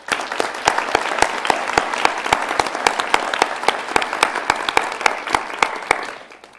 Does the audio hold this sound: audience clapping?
yes